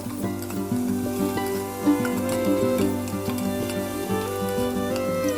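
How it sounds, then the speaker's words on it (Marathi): Ground spice paste (vatan) fries with softened onion in a pan for Maharashtrian wedding-style masale bhat, a continuous soft sizzle and stirring beneath a steady tonal, melodic background. "कांदा मऊ झाला की आपल्याला त्यामध्ये वाटण टाकायचं आहे वाटण चांगलं परतून घेऊया"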